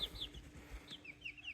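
Chickens in a pen, five of them recently brought in bloody after being picked on by other birds, cluck softly in short, repeated, faint calls, with low scuffling beneath.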